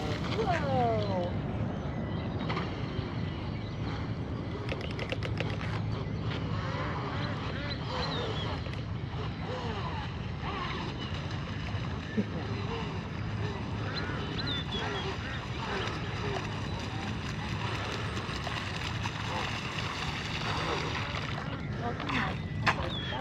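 A J&R Marine H17 RC hydroplane runs at speed across the water, giving a steady buzzing engine drone that holds through the whole stretch, while people chat over it.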